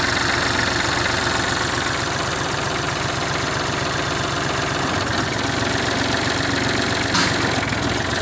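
A Kubota farm tractor engine idles steadily after a gear-oil filter change, its loud, rhythmic diesel chug close by and continuous with no speech.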